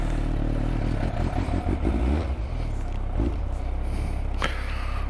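Motorcycle engine running steadily nearby while gears are shifted without using the clutch, with a low rumbling drone, brief clunky clatter around the shifts and a quick rise in revs near the end.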